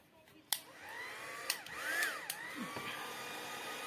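A heat gun blowing hot air on vellum for hot embossing, a close steady whooshing drone with shifting whine, punctuated by a few sharp clicks.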